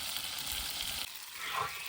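Stingray fish frying in a pan in a village kitchen, a steady close hiss and sizzle of hot oil that dips briefly midway before continuing, with no talk.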